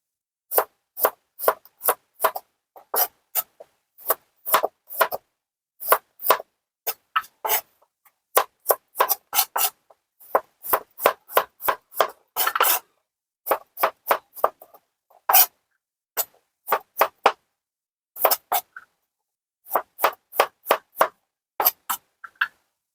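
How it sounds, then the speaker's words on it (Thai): Quick bursts of knife taps on a cutting board while chopping garlic, in irregular runs of rapid chops separated by short pauses, close and crisp. "ต่อมาแล้วก็หั่นกระเทียมนะคะหั่นเป็นแบบนี้นะคะ"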